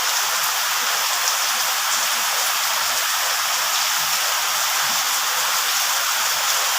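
Steady rain pours down across a village, a dense, even hiss of water falling on surfaces that stays constant and fairly loud throughout with no voices.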